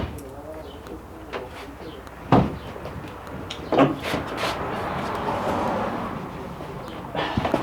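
A heavy Nissan S13 hatchback door is worked loose and pulled off during a gutting job, giving two sharp metallic clunks amid shuffling, rustling and muffled background talk.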